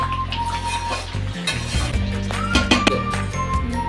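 Chicken gravy masala curry being stirred in a pan: a spoon scrapes and clinks against the metal over a steady low sizzle, close and continuous.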